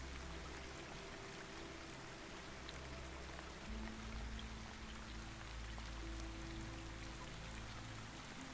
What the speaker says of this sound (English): the rain is falling across the harbour